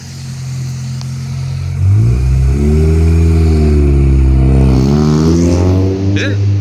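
A lowered silver 1998 Honda Civic sedan idles with a low hum, then revs up at about two seconds and holds a loud, wavering high rev before easing back down, heard close by.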